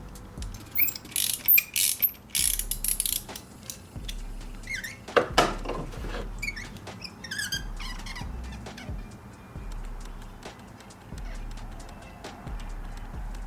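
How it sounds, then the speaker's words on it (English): A ratchet with a 10mm deep well socket loosens glow plugs on a 1.9 TDI Audi/Volkswagen engine, giving bursts of quick close clicking with pauses and faint tool clinks between them. "So all it takes to remove them is just a 10mm deep well socket."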